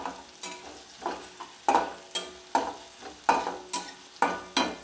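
Chopped onion and green chilli fry in a pan for lentil soup with bottle gourd, giving a steady sizzle with a rhythmic stirring scrape about every half second, close by and with no voices.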